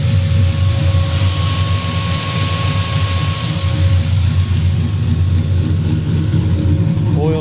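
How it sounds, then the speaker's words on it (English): A car engine idles steadily with its cooling fan running, a constant close whir and hum over a low mechanical drone throughout, with talk faint in the background. "You can hear the fan."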